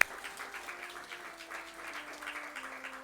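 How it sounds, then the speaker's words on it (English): An audience applauds a student at a spiritual retreat talk. The clapping is steady and moderate, spread across the room, with a faint sustained tone running underneath and no voices. "I think he deserves a clap."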